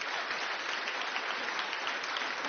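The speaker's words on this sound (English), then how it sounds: "Are you applauding him?" A studio audience applauds during a television chat segment, a dense, even wash of clapping that stays steady and fairly soft throughout the short stretch, with no voices over it.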